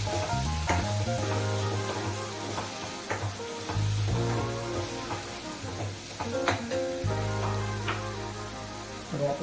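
Potato, tomato and onion gravy goes into a pan of sizzling sautéed garlic for kala chana sabji, giving a steady close sizzle broken by stirring clinks and scrapes.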